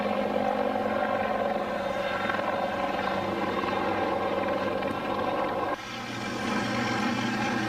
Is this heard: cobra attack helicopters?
yes